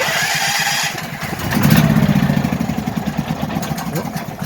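A Duramax 8500 dual fuel generator gets a start attempt: a hiss gives way to a cranking, sputtering engine chug with a fast, pulsing rhythm, loud and close, fading unevenly toward the end.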